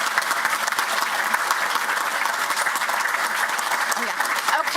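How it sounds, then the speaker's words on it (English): A room full of people at an Olathe Public Schools Board of Education meeting breaks into steady, sustained applause for Brandy's honor, clapping evenly for several seconds. "please join me in giving Brandy a round of applause for her distinguished honor"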